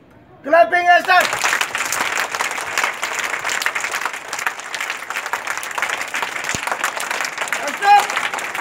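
A group of schoolchildren claps hands together in a sustained burst of applause lasting several seconds, with children's voices calling out just before it starts and again near the end.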